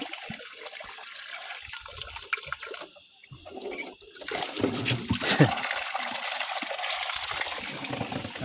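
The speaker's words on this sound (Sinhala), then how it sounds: "මෙන්න මේ විදිහට උඩසට වතුර ගන්න පුළුවන්." Water gushes from a stone water tap at a rainforest temple, a steady broadband rush that gets louder partway through. It follows a quieter stretch of faint trickling and handling sounds.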